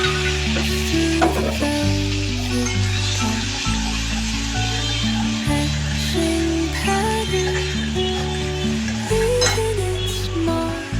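Onion paste frying in oil with cumin, a cinnamon stick and a clove, a continuous sizzle with occasional clinks and stirring scrapes under steady background music, with no talking.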